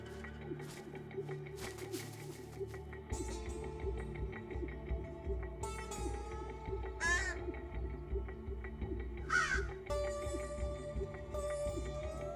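Crows caw in short repeated bursts over a low steady hum, several calls spaced across the stretch, fairly close and clear, with no talk.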